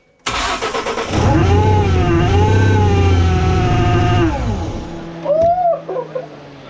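A supercharged 3.7-litre V6 Ford Mustang engine cranks and roars to life with a loud rev, holds a strong rumble for a few seconds, then cuts off amid some clatter.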